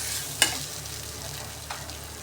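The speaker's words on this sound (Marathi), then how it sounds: "थोडा वेळ असं तेलावर परतवून घेऊया आपण." Spices with turmeric frying in hot oil for a samosa filling, a soft steady sizzle with a couple of brief stirring clinks, close and fairly quiet.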